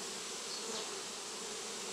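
Honey bees buzz steadily around a nucleus colony hive, a dense, even hum that carries on without a break, with one or two louder passes close by.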